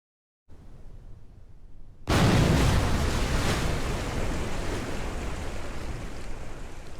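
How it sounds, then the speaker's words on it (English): Rocket splashdown in the ocean in Kerbal Space Program: after brief quiet wind, a sudden loud broadband crash of water hits, then settles into a sustained roaring surf and wind wash. "let's go ahead and watch this splash down again"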